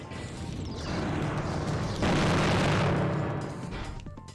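Bomb explosions in the GameCube robot battle game Custom Robo: a rumbling boom swells and then hits harder midway, with crashing bursts over a dense, noisy game mix.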